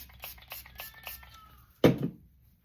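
A cat gives one loud, close meow after a stretch of soft background clatter and hum.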